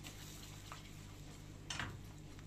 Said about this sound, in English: I melt the butter and add 1 spoon of red pepper and whisk.